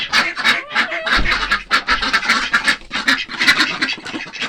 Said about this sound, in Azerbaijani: Pekinlərə baxın, sıqılı pekinlərə. Onlar da istəyir gəlib yemək.